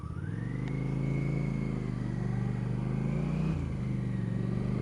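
A 1983 Honda CX650 Turbo motorcycle cruises steadily with a loud, continuous engine drone and a faint whine, dipping briefly as the rider shifts near the end, with no talk.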